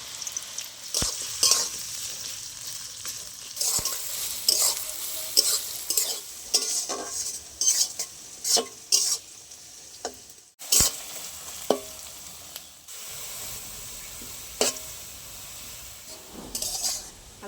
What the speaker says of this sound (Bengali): তেলের মধ্যে পেঁয়াজ দিয়ে দেবো।